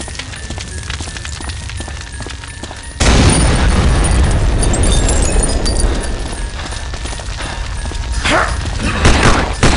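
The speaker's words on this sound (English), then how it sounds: "Explosions rocked the hospital." Loud, dense blasts and rumbling debris erupt suddenly after a quieter opening, then roar on continuously with crackling bursts, like explosions rocking a hospital.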